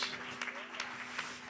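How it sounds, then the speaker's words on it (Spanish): Congregation applauding inside a church during worship, a steady wash of clapping heard at moderate distance, with a sustained tone, likely an organ or keyboard, and some voices beneath it. "aplauso para el Rey de la gloria, para el único Dios"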